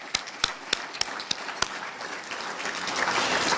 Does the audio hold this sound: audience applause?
yes